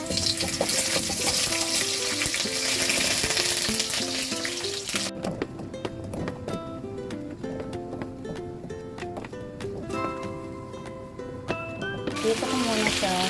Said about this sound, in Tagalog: So, ipiprito muna natin ang mga gulay.